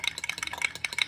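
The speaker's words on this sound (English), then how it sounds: "Take a little stir here, mix it around." Food being stirred and mixed in a pan, a run of soft scraping, clinking strokes coming close together in a quick, irregular rhythm, close and fairly quiet.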